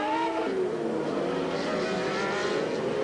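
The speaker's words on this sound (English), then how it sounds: "Tremendous train of cars. This is the midfield battle." A pack of Formula 1 cars races at the 1990 Canadian Grand Prix in Montreal, a continuous high-pitched engine whine with rising and falling tones as the train of cars streams past.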